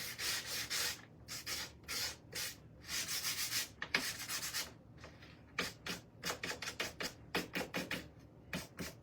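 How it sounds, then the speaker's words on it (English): Edges of a beaded craft frame are sanded by hand in short, rhythmic back-and-forth strokes, close and fairly soft, with brief pauses between bursts. "I'm just going to kind of sand the edges a little bit, but I got to be careful that I don't break it"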